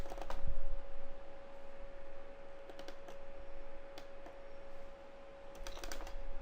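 A computer keyboard clicks out a short burst of typed keystrokes in separated clusters over a faint steady hum, close and moderately quiet, with no talking.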